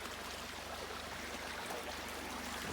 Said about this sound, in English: we got a nice little creek here